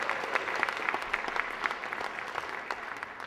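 An audience applauds a performer named Ashley at a live origami illusion magic show, a steady wash of many clapping hands with scattered sharper claps standing out, continuous throughout.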